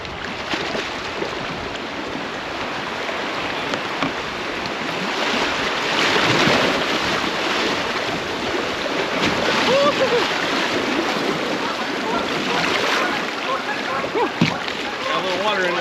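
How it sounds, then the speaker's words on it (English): Small river rapids churn and splash against a fishing boat, a continuous rushing wash with wind buffeting the microphone and occasional louder slaps of water near the hull. "I wasn't expecting any rapids like that"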